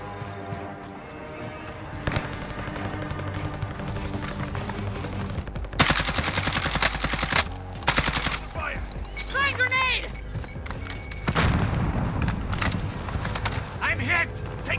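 Gunfire in the Call of Duty Warzone video game on Rebirth Island, dense bursts of automatic weapon fire and single shots, loud and close, with game voice lines and other sound effects mixed in.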